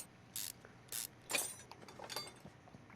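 Bolts come out with quick ratchet clicks in the game Car Mechanic Simulator 2021, a few short, faint bursts spaced apart, each a brief crisp rattle of the tool on its own.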